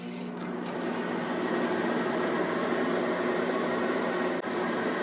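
A microwave oven runs while heating an open bag of seed starter soil, giving a steady close hum with a broad airy whir that stays constant throughout.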